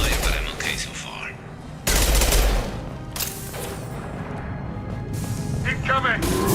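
Gunfire in the video game Mass Effect, with bursts of shots and explosive cracks scattered through a busy combat soundscape, a loud blast near two seconds, mixed under ongoing game audio.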